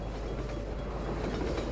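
A train passes close by in Half-Life 2, a loud steady rumble of heavy rolling wheels and rattling cars across the whole short stretch, with no voices.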